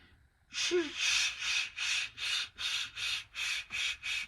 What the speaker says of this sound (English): These are people sharpening knives.